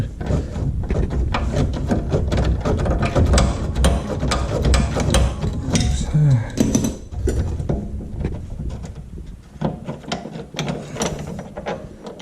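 A 3/8 drive ratchet clicks steadily and loudly while loosening a Mercedes rear subframe bolt, with rapid pawl ticks in repeated strokes and a brief strained pause midway.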